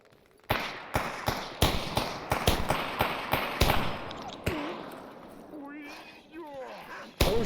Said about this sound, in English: I'm hearing lots of gunfire